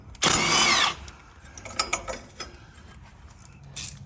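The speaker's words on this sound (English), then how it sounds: "using a 15mm socket, I'm gonna go ahead and disconnect the brake and ABS line brackets secured to the lower control arm" A ratchet with a 15mm socket works on brake and ABS line bracket bolts at the lower control arm of a Jeep Wrangler JL, giving one loud burst of fast clicking and then scattered quieter clicks and metallic taps.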